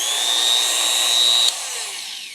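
A hand-held power tool spins at high RPM, porting an exhaust header adapter flange: a loud, close, steady high whine that suddenly drops in pitch and then winds down.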